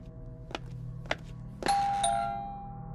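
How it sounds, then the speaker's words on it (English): A doorbell at the front door of a large house sounds alone: a few soft taps, then a clear electronic ding-dong chime that rings out and slowly fades. "They rung the bell and ran away to the safety of a parked car opposite the house."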